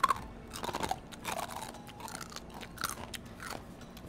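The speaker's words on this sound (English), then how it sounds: "That's a nice, crunchy, crispy chip." Close, crisp crunches as someone bites into a crunchy, crispy chip, several sharp bites and chewing crackles with no talking.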